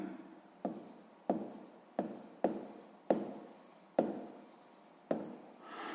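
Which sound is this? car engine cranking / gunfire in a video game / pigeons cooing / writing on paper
writing on paper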